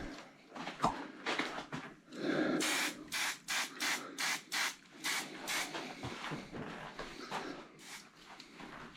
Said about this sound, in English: So just about to spray these rear suspension wheel hanging units with.